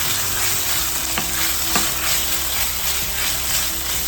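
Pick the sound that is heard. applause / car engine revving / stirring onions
stirring onions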